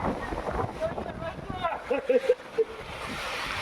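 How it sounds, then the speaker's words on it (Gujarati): Strong storm wind roars steadily into the microphone outdoors, with a voice briefly heard under the gusts. "આમ જોવો તો ખરી ખતરનાક પવન છે મિત્રો"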